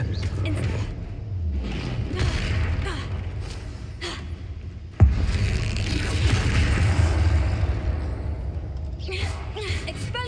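A Confringo fire spell explodes in Hogwarts Legacy with one sharp boom midway, followed by a rumbling, crackling blast over continuous loud game ambience.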